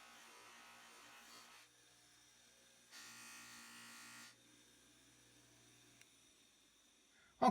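A buffing wheel on a 1x30 belt sander setup polishes a steel hammer toward a mirror finish, with two bursts of whirring contact against the wheel over a low motor hum, followed by a sharp knock at the end.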